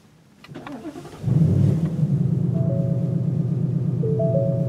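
A 2018 Ford Mustang GT V8 with active exhaust cranks and fires up, then settles into a deep, steady idle rumble, close and loud, with a faint electronic chime over it.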